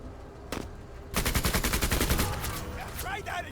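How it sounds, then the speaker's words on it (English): Rapid automatic gunfire from the tactical video game Menace crackles in dense, loud bursts for a couple of seconds after a lone shot, trailing off into scattered shots and game effects. "Of course I'm shooting you."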